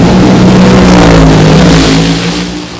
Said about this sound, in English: Brings the American Way 57 Chevy funny car.